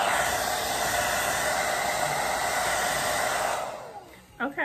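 A hair dryer blows a hot, steady, loud rushing hiss up close for several seconds, then cuts off, and a brief voice follows.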